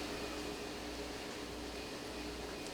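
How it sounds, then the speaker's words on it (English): A steady, faint whir of an electric fan running continuously as low background noise, with no other sounds or voices. "I do want to apologize if you can hear the fan running behind me."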